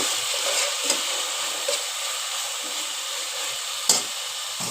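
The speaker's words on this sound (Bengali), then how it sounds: "দেখতে পাচ্ছ আমার প্রিয় আপু, এটাকে এখানে কষিয়ে নিচ্ছি।" Onion, ginger and garlic pastes frying with salt: an even, soft sizzle with occasional sharp spatula clicks against the pan, moderately close and unaccompanied by speech.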